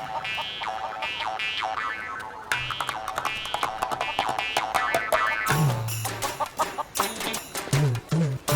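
Chickens on a village farm cluck and squawk in rapid, busy bursts, close and loud, layered over other background sounds in a film scene.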